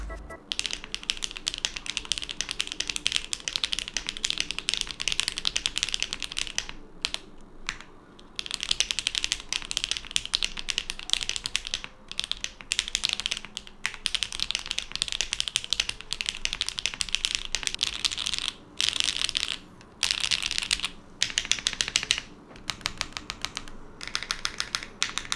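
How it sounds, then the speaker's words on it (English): Steady typing on a custom mechanical keyboard, crisp clacky keystrokes in a fast rhythm with brief pauses, close and clear. "then you have a perfectly good and amazing sounding keyboard."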